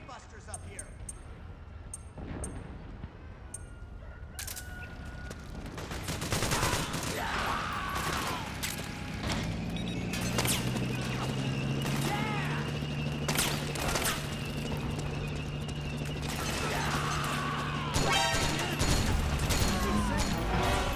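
Heavy automatic gunfire from the player's weapon in Metal Gear Solid 4, a continuous barrage of rapid shots with metallic mechanical clatter, loud and sustained across most of the stretch with game effects layered in.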